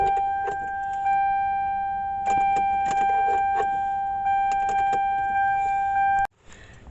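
A car with a bad starter fails to turn over: a steady two-tone dashboard warning chime rings under scattered dry clicks from the starter, with no engine catching, before the sound cuts off abruptly.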